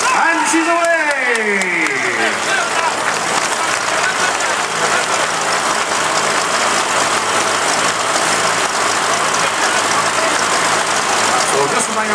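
A vintage tractor engine at a vintage club tractor build event cranks with a brief rising-and-falling whine, then catches and runs with a steady, loud, rough drone throughout, with voices in the background.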